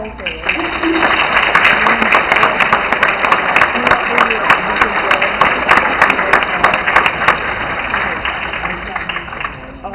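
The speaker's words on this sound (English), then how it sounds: "join me in acknowledging our incredible facilitators and all of the individuals in your life that have provided you with the balance and support throughout this program with a tremendous round of applause" A graduation audience at Upper Cape Tech's class of 2011 ceremony gives a loud, sustained round of applause, many hands blending into a thick, even roar with sharper individual claps poking through before it thins toward the end.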